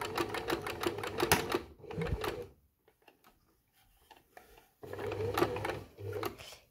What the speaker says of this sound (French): maintenant la parmenture sur la manche et je pique, donc j'y vais doucement pour piquer vraiment sur les traits rouges